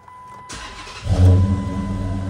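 Chrysler 300C with a 5.7 Hemi V8 and Flowmaster Super 10 exhaust, resonators deleted, fires up for the first time: a short starter whir, then a loud, deep exhaust rumble that settles into a throbbing idle close by.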